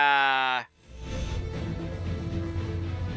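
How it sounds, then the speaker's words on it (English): A fainting goat in Space Engineers gives a short, harmonic bleat up front, then cuts off into a steady broadband rumble of game ambience for the rest. "are they like fainting goats?"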